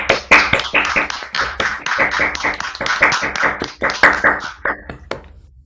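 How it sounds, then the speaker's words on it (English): A small audience at a mathematics award ceremony claps for several seconds. The hand claps are close, crisp and individually distinct, with an uneven rhythm that thins out toward the end. "So let's give her a round of applause."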